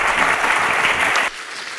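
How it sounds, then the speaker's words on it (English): A church congregation claps together in praise, a brisk dense burst of applause that stops abruptly after just over a second, leaving a quiet room. "Give a clap of hallelujah."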